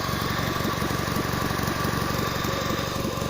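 A Fiat Punto engine idles steadily with a blowing exhaust, giving a continuous rough, buzzing putter heard close up, with no talk.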